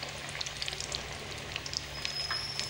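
Eggplant slices coated in besan (gram flour) batter frying in hot oil, a steady close sizzle with scattered crackling pops and bubbling throughout.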